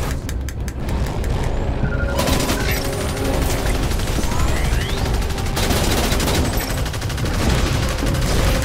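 Enemy gunfire in the Archangel VR game rattles loud and continuous, dense bursts of shots layered over mechanical game noise for the whole stretch.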